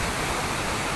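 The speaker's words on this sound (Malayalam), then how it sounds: "കളകള ആരവത്തോടു കൂടി വളരെ മനോഹരമായി ഒഴുകിക്കൊണ്ടിരിക്കുന്ന ഈ വെള്ളച്ചാട്ടം" A waterfall at Pathrakkadavu in Palakkad pours in a constant, dense rushing roar, loud and close, with no break or voices over it.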